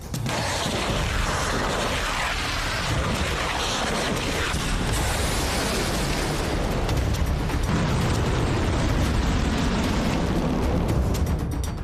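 Continuous heavy rumbling with dense bursts and crashing booms, loud and sustained throughout, like a barrage of missile strikes and explosions in the Iran–US conflict, with no voices.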